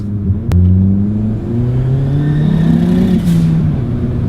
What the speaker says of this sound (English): you can just hear the wastegate just go to town